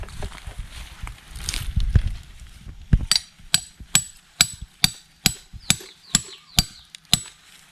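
Sharp, evenly spaced hammer blows drive stakes into a tree trunk for climbing up to a giant honeybee nest, about ten crisp close strikes in a steady rhythm after some rustling.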